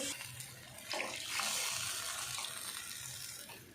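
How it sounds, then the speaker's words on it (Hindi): Water poured from a glass into a cooking pot while making pea pulao (mater pulao), a steady splashing pour rising and settling over a few seconds, close and fairly loud with no talking. "4 गिलास इसमें पानी डाल देंगे"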